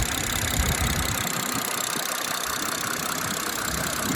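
A BMW M240i running on E40 fuel idles steadily nearby, an even, loud engine hum with a slight mechanical patter throughout and no talking.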